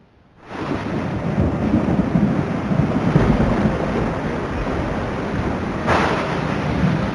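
Heavy, steady downpour during north Indian monsoon flooding, a dense continuous roar of rain with low rumbling thunder throughout, loud and close, with a brief swell of heavier rain near the end.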